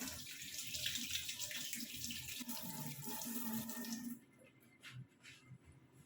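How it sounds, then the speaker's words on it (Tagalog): Hands are washed under running tap water, a steady close splashing flow for about four seconds that then stops. A few faint drips and splashes follow. "So, ligas muna tayo ng kamay."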